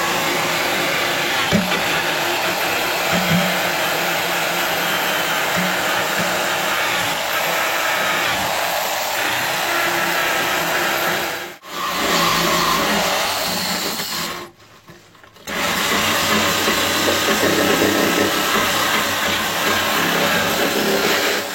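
A power brush scrubs the wheel arch of a Peugeot 206 CC, a loud steady whirring roar that runs almost without break for about twenty seconds, cutting out briefly twice before starting again, with no talking.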